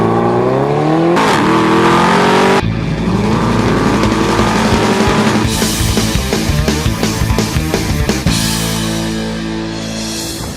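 Mercedes-Benz SLS AMG engine revving hard, a loud close exhaust note climbing through gears with shifts and a rapid crackling burble, sustained throughout.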